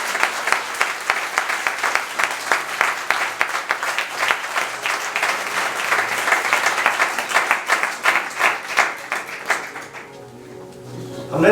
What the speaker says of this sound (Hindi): आइए जोरदार ताली प्रभु यीशु मसीह के लिए बजाएंगे।